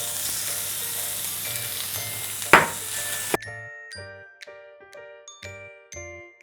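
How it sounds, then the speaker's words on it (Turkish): Minced meat fries in hot oil with a steady sizzle and one sharp stirring scrape. The frying then gives way to a run of bright, tinkling chimes. "Şimdi içine kıymayı alıyorum ve de pişene kadar kavuruyorum."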